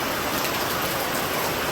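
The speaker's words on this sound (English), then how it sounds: "So now it's pouring." Heavy rain pours down on a sailboat, a dense, steady hiss of broadband noise at constant loudness with no voices.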